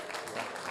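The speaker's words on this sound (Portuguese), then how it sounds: "uma salva de palmas para o Nicolas aqui, pessoal." Steady clapping from an audience at a technology and innovation event stage, a dense continuous patter of many hands with no pauses, filling the whole short stretch.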